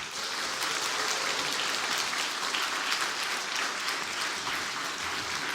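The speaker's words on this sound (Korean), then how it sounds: "우리 나오실 때 한번 큰 박수로 우리 환영해 주시면 고맙겠습니다" A church congregation at a Sunday afternoon service applauds to welcome a visiting pastor, a steady, dense wash of many hands clapping throughout with no talk over it.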